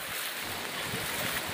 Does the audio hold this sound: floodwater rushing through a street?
yes